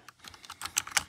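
Quick, light keystrokes on a Langtu LT84 mechanical keyboard, a short run of about a dozen close clicky taps in irregular rhythm, nothing else heard.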